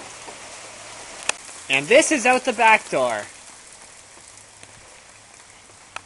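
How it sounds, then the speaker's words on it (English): Hail coming down outside a back door during a sudden storm, a steady fine patter across the whole stretch; someone speaks briefly near the middle over it, with a couple of sharper single impacts. "there's hail coming down"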